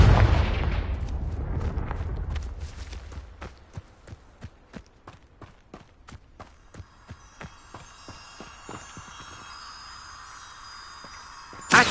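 Fire-spell explosions from a spellcasting video game: a loud burst and rumble at first, then a long rapid series of sharp cracking impacts that gradually fade, ending with one more hit.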